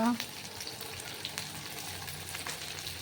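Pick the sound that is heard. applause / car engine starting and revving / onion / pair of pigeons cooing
onion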